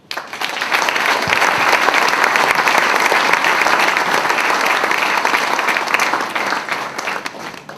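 Sustained, dense audience applause at a New Year's greetings speech, loud and steady for several seconds with no talk over it, starting abruptly and tapering slightly at the end.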